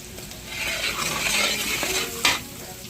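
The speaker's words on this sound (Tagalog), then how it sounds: "Ayan, lagyan natin yung bawang. Gisa-gisa, gisa-gisa." Garlic sautéing for spaghetti sizzles steadily in a hot pan as a utensil stirs and scrapes, with a sharp metallic clink near the end.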